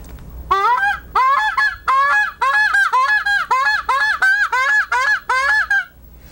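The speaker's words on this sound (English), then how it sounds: "And if you see some geese flying over," Geese honk loudly and close overhead in Arizona, a steady rhythmic run of about a dozen nasal two-part honks that carries on for several seconds before stopping.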